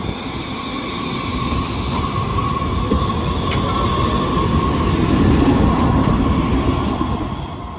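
A San Francisco Muni Metro train rumbles steadily with broad rolling noise and a faint high whine, heard close and loud throughout without any voices.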